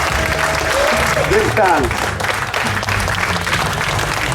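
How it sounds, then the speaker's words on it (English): An audience applauds at the end of a talk at the Dub Camp Festival, steady dense clapping throughout, with a voice speaking and shouting over it. "encore un petit dernier applaudissement pour Prince Allah."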